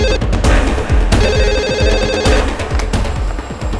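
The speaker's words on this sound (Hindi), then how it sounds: "रिंग जा रही पर उठा नहीं रहे।" A telephone rings loudly and close by in a trilling bell pattern, repeating over and over, with low thumping background sounds underneath and no voices.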